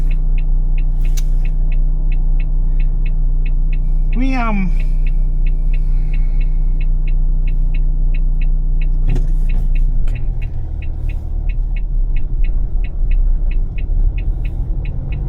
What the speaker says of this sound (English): lots of cars at the moment.